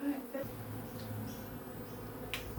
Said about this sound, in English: Dark bees.